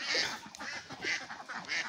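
Ducks on a small duck farm quacking in several short nasal bursts, fairly close and fairly loud, with no talk over them.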